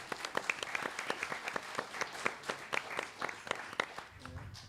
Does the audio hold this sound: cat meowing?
no